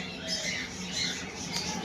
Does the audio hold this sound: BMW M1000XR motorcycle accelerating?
no